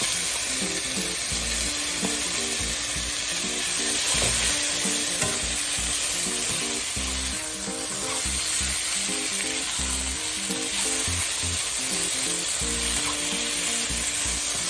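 Beef stir-frying with bitter melon in a hot pan, a loud continuous sizzle with rhythmic clattering stirs and scrapes throughout, close up and without talk.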